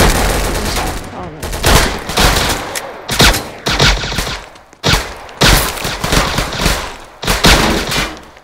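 Gunfire in a Roblox-style Chicago game, heard as loud clustered bursts of repeated shots that stop and start in several separate volleys with short gaps between them.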